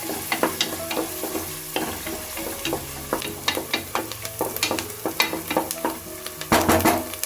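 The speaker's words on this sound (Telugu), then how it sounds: "ఇప్పుడు ఈ ఆనియన్స్ అంతా బాగా ద్వారగా ఫ్రై చేసుకోవాలండి" Onions frying in a pan while making a quick tomato rice lunch-box dish, with a steady close sizzle broken by frequent stirring clatters and scrapes of a spoon against the pan, no voices.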